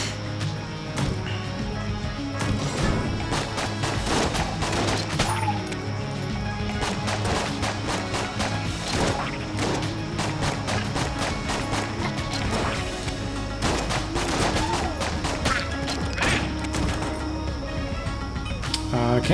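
Waves of bullets fired in Enter the Gungeon during a Gunslinger unlock run: a dense, unbroken stream of sharp shots and impacts over a steady game soundtrack, loud and busy for the whole stretch.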